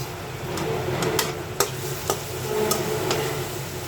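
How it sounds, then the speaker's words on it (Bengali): Onions fry in fish oil in a pan for a tengra fish broth with raw tomato and brinjal, a steady close sizzle broken by several sharp clicks of stirring, with no voices. "পেঁয়াজটা ভাজা হয়ে গেছে"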